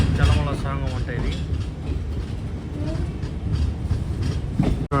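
Yesvantpur–Puri Garib Rath express train emerging from a long tunnel in the Nallamala forest, a steady rumbling roll with faint rail clatter, heard from on board with a person talking over it.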